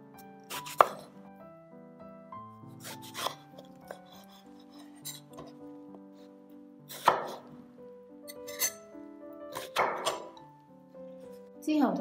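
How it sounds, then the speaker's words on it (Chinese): A knife cuts eggplant into strips on a chopping board, making a handful of sharp, irregular thunks spaced a few seconds apart over soft background music. "茄子咧，我哋就切條"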